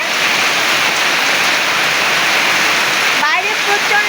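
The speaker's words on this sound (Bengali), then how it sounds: "বাইরে প্রচণ্ড বৃষ্টি পড়তেছে" Heavy rain falls outside in a dense, continuous roar that stays steady throughout. Near the end a few faint tonal sounds rise above it.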